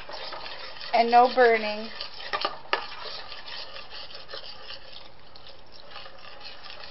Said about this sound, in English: you're just going to constantly stir and make sure you keep out the lumps